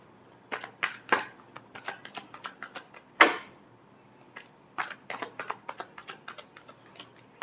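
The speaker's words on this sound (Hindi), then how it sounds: "Last shuffle." Tarot cards being shuffled by hand, a close run of quick papery flicks and taps in uneven bursts, with one louder riffle in the middle and no talk.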